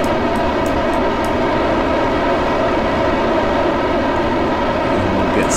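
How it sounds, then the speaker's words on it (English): Loud, steady roar of a rocket engine at full throttle during a launch in Kerbal Space Program, a continuous dense rumble without breaks and a few faint ticks at the start. "We need to get launched now. So SAS on, throttle up,"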